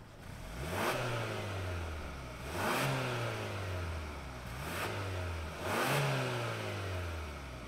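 A 2024 Hyundai Santa Cruz XRT pickup engine revs repeatedly, four rising-and-falling vroom bursts at a steady interval, loud and close with no talking.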